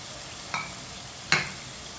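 Whole spices in hot oil in a pan for chana rice (black peppercorns, cloves, curry leaves, star anise) give two brief scraping stirs over a faint, steady sizzle.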